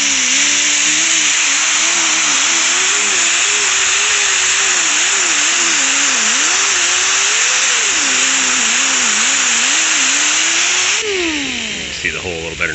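A leaky air-powered die grinder runs in a steady, loud high whine that holds for about eleven seconds, then winds down near the end as someone talks.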